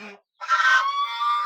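Geese on a desi free-range poultry farm let out a loud, close honk, a brief sharp call followed by a longer drawn-out nasal note, with no speech.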